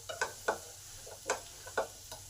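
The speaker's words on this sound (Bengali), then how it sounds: "এই সমস্ত মশলা আলুতে দিয়ে ভালো করে একটু নেড়ে নেব" Spiced potatoes with ginger, cumin, chili and garam masala being stirred in a pan, giving a few soft scraping strokes with a light sizzle underneath, quiet and close.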